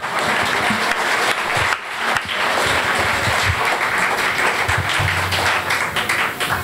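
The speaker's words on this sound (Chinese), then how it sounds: "我们给这个 Bongo 一个掌声的鼓励，" A live audience claps and applauds for a bongo player with a real leather drumhead at a Taiwanese rhythm concert, a dense, steady wash of clapping that holds through the whole stretch with only a brief dip near the middle.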